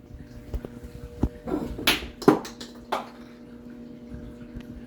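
A 3D-printed PLA filament part is dropped onto the floor, giving a few sharp plastic clacks and bounces in quick succession, then settling into quiet.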